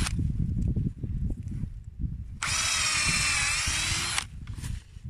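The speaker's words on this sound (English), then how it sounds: "you don't need to drill it very deep" Power drill boring a shallow hole into a birch trunk for tapping sap, outdoors; a steady, loud whine runs for about two seconds mid-clip, with rustling and handling noise before and after.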